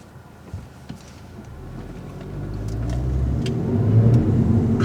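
A CUPRA Leon engine revs up and grows steadily louder as the car accelerates, with a deep rising rumble.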